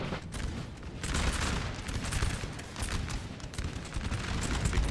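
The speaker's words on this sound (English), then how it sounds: "Gunfight here." Massed musket volleys in a Napoleon: Total War battle, dense continuous crackling gunfire rolling at a distance with overlapping shots and no pauses.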